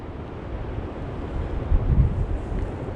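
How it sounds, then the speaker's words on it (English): Wind rumbles and buffets against the microphone at a campsite among trees at night, a low, continuous roar, gusting a little stronger near the end. "It is a little windy"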